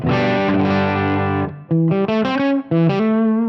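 Electric guitar played through a Brit J4 amp model on a Helix with dynamic room ambience: a long sustained distorted chord, then a string of shorter chords and notes with a roomy tail, loud and alone.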